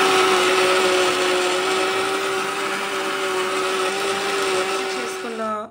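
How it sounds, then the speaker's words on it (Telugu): A kitchen mixer grinder blends sweetened watermelon cream in a loud, steady whir with a constant motor tone that winds down to a stop in the last half second. "సో ఇప్పుడు మనం మిక్సీ చేద్దాం."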